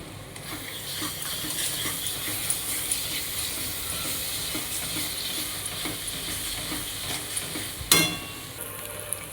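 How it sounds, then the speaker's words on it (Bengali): Masala for a chicken dish being sautéed in a pan, a continuous near sizzle with repeated rhythmic scraping and stirring clicks, ending in a sharp clatter, with no voices. "মশলাটা কিন্তু খুব ভালো করে কষে নিতে হবে"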